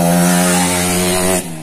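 Yamaha RX King motorcycle with a YKJ aftermarket exhaust revving, a loud, raspy two-stroke buzz held steady before the throttle drops off and fades.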